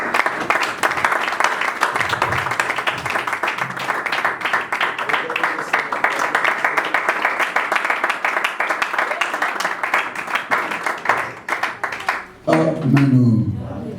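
Church congregation applauding and cheering in praise of the word of God, a steady dense crowd clapping that fills the room for about twelve seconds before breaking off, followed by a brief voice.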